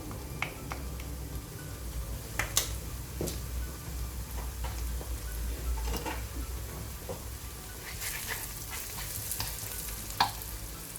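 Chili powder with other spices and ingredients frying in a pan for prawn noodles, a steady close sizzle with scattered sharp pops and crackles throughout, no voices.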